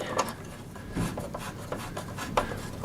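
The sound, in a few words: screwing screws into lawn mower battery box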